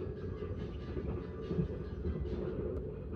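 Interior of a KLIA Transit fast train to Putrajaya, heard from on board: a low, steady rumble of wheels and carriage running smoothly at speed, fairly quiet and continuous.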